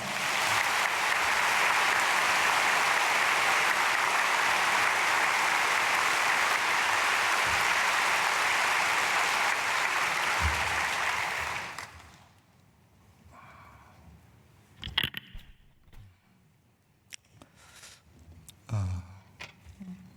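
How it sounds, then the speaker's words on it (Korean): Church congregation at a dawn prayer service applauding to welcome a pastor, steady full clapping for about twelve seconds that stops abruptly, followed by quiet room noise and a few small knocks. "박수로 모시겠습니다"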